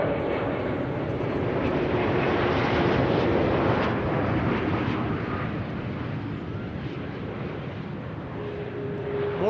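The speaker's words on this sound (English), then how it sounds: "Delta Airlines Flight 144 arriving from Seattle." Delta Airlines flight arriving from Seattle landing at Amsterdam Schiphol Airport, a loud steady jet roar close by that rises slightly mid-way and then eases, with reverse thrust rumble and no talk.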